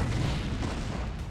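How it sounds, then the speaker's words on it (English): A Yamato cannon fires in StarCraft Remastered as a deep, rumbling blast that holds loud and steady for over a second, with no talking. "we're gonna Yamato the hell out of the cannon"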